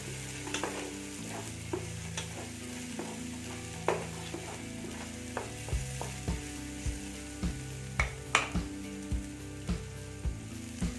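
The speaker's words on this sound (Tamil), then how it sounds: "நாலு தக்காளி கட் பண்ணி வச்சுருக்கேன் இதை இதில் போட்டு இதையும் கொஞ்சம் நேரமாக வதக்கிடுவோம்" Chopped tomatoes sauté and sizzle steadily in a pan for chicken curry, with a spoon scraping and stirring in a regular rhythm of knocks against the metal. No voices.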